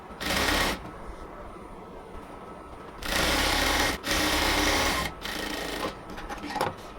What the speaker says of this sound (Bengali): আমি ফিতাটাকে সেলাই করতেছি